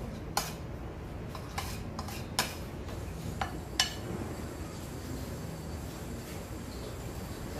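A spoon or utensil clinks against a bowl while bossam kimchi seasoning is mixed, giving a few scattered, light taps and scrapes over a quiet background.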